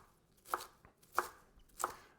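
A knife chops through cabbage, cutting it into thin slices, with three crisp, evenly spaced cuts hitting the board up close in otherwise quiet surroundings.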